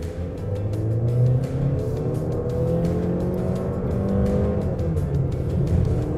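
2020 Honda Accord EL turbo with CVT accelerating in sport mode on a small factory test track, a steady engine drone with slowly rising pitch and road and wind noise, heard from inside the car.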